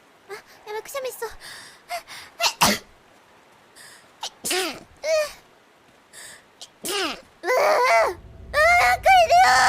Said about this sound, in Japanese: くしゃみやばい。